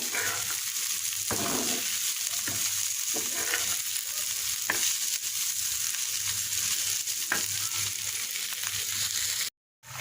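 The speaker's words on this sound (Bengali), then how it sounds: "এদিকে করলা ভাজি করে নিচ্ছি" Bitter gourd sizzles and crackles steadily in a hot pan while being stirred, with occasional scraping, then stops abruptly at the end.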